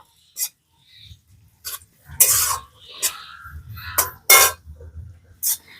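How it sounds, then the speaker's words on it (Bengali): Garlic and onion stirred and lightly fried in a pan, heard as intermittent bursts of scraping and spatula clatter, close, separated by short quiet gaps with a low sizzle underneath. "এগুলোকে দিয়ে হালকা করে একটু নেড়েচেড়ে ভেজে নেব"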